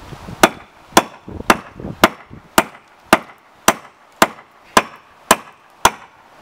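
A hammer drives an axe head onto a wooden handle during hafting, giving about eleven sharp, close, evenly spaced blows in a steady rhythm of roughly two per second, each with a bright metallic crack.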